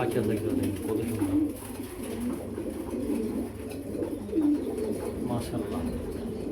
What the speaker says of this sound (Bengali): আল্লাহ সৃষ্টি কত সুন্দর একটা কবুতর